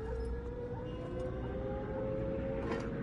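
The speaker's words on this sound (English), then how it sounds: "Air raid sirens." In the video game Assassin's Creed Unity, a long wailing air raid siren drones steadily with a rising-falling pitch over a dense rumbling background.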